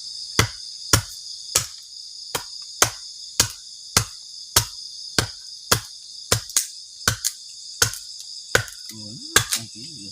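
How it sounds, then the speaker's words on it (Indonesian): Steady high cricket chirping at night at a campsite, a continuous bright trill under a regular series of sharp knocking or chopping strikes about every half second, with no voices. "ketika malam suara jangkrik itu kenceng banget"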